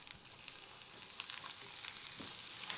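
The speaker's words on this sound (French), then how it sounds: "J'ai mis un peu de beurre dans une poêle, je les ai nettoyés et ça part en cuisson." Chanterelle mushrooms fry in butter in a pan, with a steady soft sizzle and scattered small pops that continue evenly throughout, close and alone with no voices.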